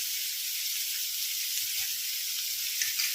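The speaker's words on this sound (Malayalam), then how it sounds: "സവാള നന്നായിട്ടൊന്ന് വഴണ്ട് വരാൻ അതിലേക്ക് കുറച്ച് ഉപ്പ്" Sliced onions sautéing with salt in a pan for egg biryani, a soft, steady, even sizzle close by with no stirring or voices.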